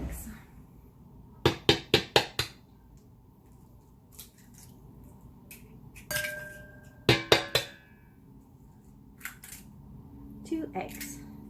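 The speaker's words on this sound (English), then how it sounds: "So now we're gonna add our eggs." Two eggs cracked into a wheat-free, dairy-free meatball mixture: a quick burst of four or five sharp shell taps and clicks, then a second cluster of cracks a few seconds later, close and fairly crisp against a quiet kitchen.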